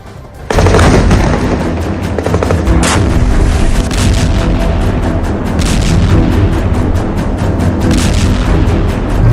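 Heavy bombardment during an Israeli air strike on Gaza, a loud continuous roar of blasts and booms with sharper cracks rising through it, sustained throughout after an abrupt start.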